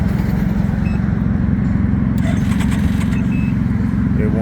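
Can-Am Ryker three-wheeler cranking but not starting, broken down in Texas: a loud, steady rapid starter churn runs throughout, and light clicks and rattles join partway through.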